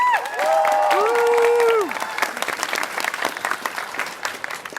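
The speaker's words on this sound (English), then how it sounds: "A round of applause for Liesel." A convention panel crowd bursts into applause, clapping steadily for several seconds while a few high whistles or cheers ring out at the start.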